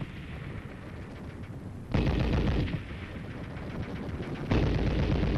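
Live ammunition crackles through a military training course, with heavy sustained gunfire and a couple of abrupt louder volleys over a constant rumbling din, loud and continuous with no voices.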